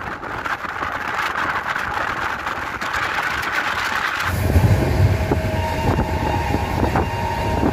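A train pulls out of Rampurhat station, rumbling steadily, then rises into louder low rolling clatter with rhythmic wheel clicks as it gathers speed, heard from on board.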